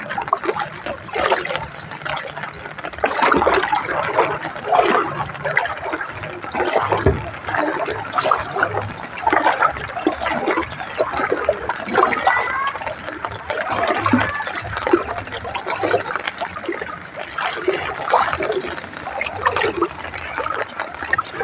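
Knee-deep water flowing through a flooded neighbourhood makes a continuous rushing, gurgling wash with uneven surges, loud and close throughout.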